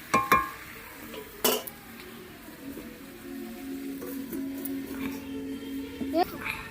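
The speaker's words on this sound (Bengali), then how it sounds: "চাপা দিয়ে দিয়ে আস্তে আস্তে কষতে হবে।" Food is slowly sautéed in a pan on a rooftop in winter, with a soft continuous sizzle, occasional scrapes and clinks of the stirring utensil against the pan, and voices speaking now and then.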